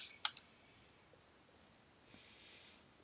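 A couple of quick, faint clicks from a computer keyboard and mouse sound close together in a quiet room, followed by near silence.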